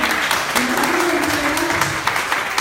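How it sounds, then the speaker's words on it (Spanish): A close, dense round of audience applause at a talk on diabetes patient care, a steady wash of clapping that holds its level for nearly three seconds, with a faint voice underneath. "Le damos un fuerte aplauso otra vez"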